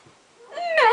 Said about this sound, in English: Go pet the magic cat.